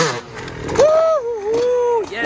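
A dirt bike engine revs up and holds during a test ride, rising and falling in pitch, close and loud with brief dips between throttle blips.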